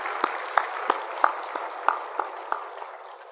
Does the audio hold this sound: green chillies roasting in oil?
no